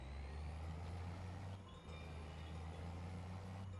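Truck hauling a load of straw bales in Farming Simulator 25. A low, steady engine rumble runs throughout, with a faint high whine and a brief dip midway, and no talk.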